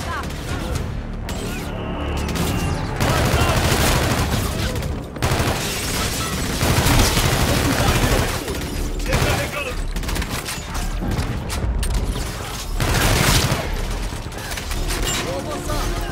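Heavy weapon fire in the Call of Duty: Infinite Warfare video game roars almost without pause, with dense bursts, booms and explosions filling the mix, while voices speak underneath.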